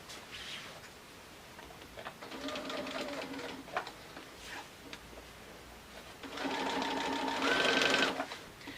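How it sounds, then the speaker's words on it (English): A sewing machine stitches binding onto a zippered project bag in short bursts, its rapid mechanical whir starting and stopping nearby, with the longest run near the end. "I am going to leave myself a big tail and then start stitching around the middle"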